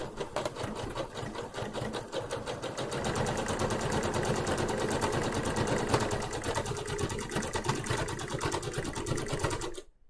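A sewing machine runs steadily at close range for about ten seconds with a fast, even mechanical rattle, then stops abruptly at the end, with no one talking.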